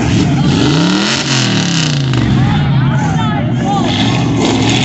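A Ford Mustang's engine revs at an outdoor Christmas parade, a steady loud rumble with rising and falling pitch sweeps, and people talk over it the whole time.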